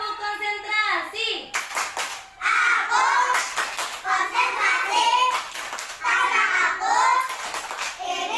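Children in a classroom doing a counting concentration clap, bursts of hand claps in sets alternating with a teacher's voice and children chanting, loud and close.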